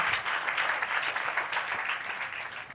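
A church congregation claps in praise, filling the room with a sustained wash of many hands at a moderate distance that fades slightly toward the end.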